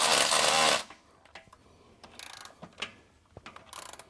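A socket slimmed down on a wood lathe turns on a fastener of a Nissan Figaro, giving soft ratcheting clicks and scattered mechanical ticks after a loud initial burst of broadband noise, fairly close and with no talk.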